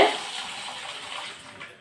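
Water sloshes and swirls steadily as grain is rinsed by hand, a close, continuous washing sound that fades slightly at the end.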